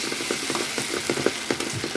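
Food dry-fries in a pan for a Bengali breakfast dish, with a steady close sizzle and rhythmic stirring scrapes at a regular pace, no voices.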